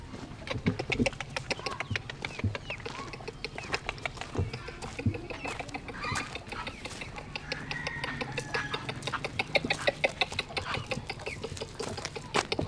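Several chickens cluck in the morning at a household in Taoudi, Côte d'Ivoire, a busy, steady stream of close clucks and scratching, with other birds mixed in.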